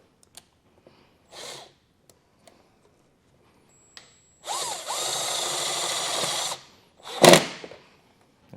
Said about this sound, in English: we'll just kind of get this in place here and then drill this in